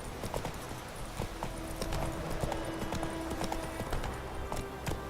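Roach, the horse in The Witcher 3, galloping: a quick, even clip-clop of hooves, fairly faint, running steadily over a low ambient bed, with no talk during the run.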